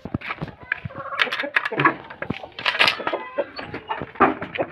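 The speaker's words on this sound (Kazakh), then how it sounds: "Тауықтар осы." Chickens cluck and squawk close by in an outdoor farmyard, in short irregular bursts that overlap, with a person talking among them.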